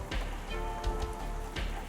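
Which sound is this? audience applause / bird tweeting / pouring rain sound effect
pouring rain sound effect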